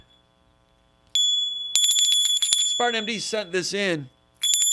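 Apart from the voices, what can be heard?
tip jar bell being rung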